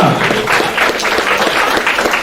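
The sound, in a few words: audience clapping to cheer on a record attempt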